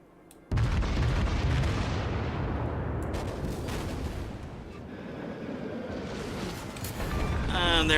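Warship guns in World of Warships firing armour-piercing shells at a Pensacola cruiser: a sudden heavy boom sets off a long roaring rumble of gunfire that fades slightly and swells again, with a sharp burst near the end.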